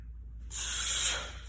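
A deep, long breath drawn in before a deadlift, heard as a strong airy hiss that swells and holds for about a second. It sits close and loud with no talk.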